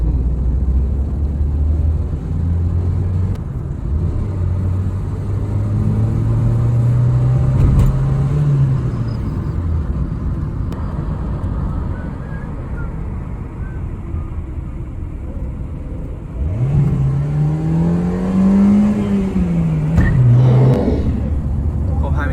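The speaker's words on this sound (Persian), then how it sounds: "ماشین پشت سر ما." A car drives along a rural road, its engine a steady low hum with two rising and falling swells of revving as it passes, heard close from inside a moving vehicle.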